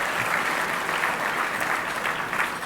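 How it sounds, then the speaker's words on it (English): Gala audience applauding in a hall at a global health fundraiser: dense, steady clapping from a large crowd sustained evenly throughout. "Yeah, that's worth a round of applause."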